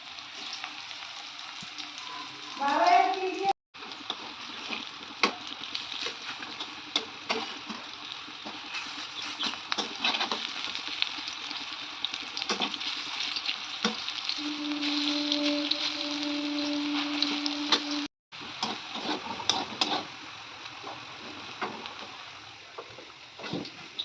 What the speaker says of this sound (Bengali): একটা একটা করে আমি হিমচের বড়াগুলো দিয়ে দিচ্ছি